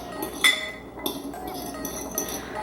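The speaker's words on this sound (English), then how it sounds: "I just use a fork to stir it around." A fork clinks and scrapes against a dish as food is stirred around in a home kitchen. The light, bright taps repeat unevenly and sit close and clear.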